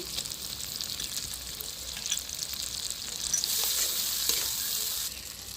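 Ginger paste sizzles in a pan of softened tomato and chili paste for a jackfruit kosha curry. A steady frying hiss and crackle grows louder and denser about halfway through, with no voices.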